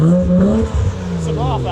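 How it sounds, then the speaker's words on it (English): A Mazda RX-7 FD with a new exhaust lets off throttle, a loud close engine note falling away followed by a short hiss and flutter of the blow-off valve, with people talking over it. "It's a blow-off valve."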